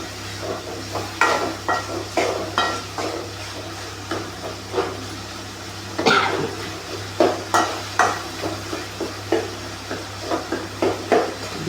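Tomatoes and turmeric cooking in a pan for a thick kurma give a soft background sizzle, broken by repeated clinks and scrapes of a spoon stirring against the pan, loud and close throughout.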